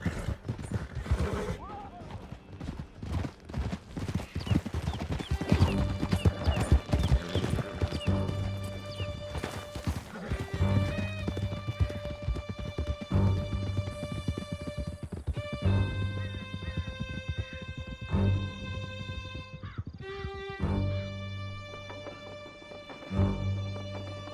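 Horses galloping in Red Dead Redemption 2, a fast, steady clip-clop of hooves near and loud, with neighing, tonal game music and some shouted voices over it throughout.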